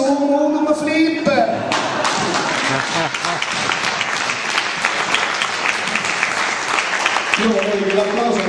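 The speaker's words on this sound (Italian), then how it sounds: "Io vorrei che l'applauso andasse a questi due" Clapping from an audience at a live performance in Arezzo swells into sustained, dense applause, with brief talk at the start and again as it winds down.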